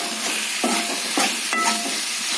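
Soya chunks sizzle in a hot pan in a steady close hiss, broken by several short scraping stirs.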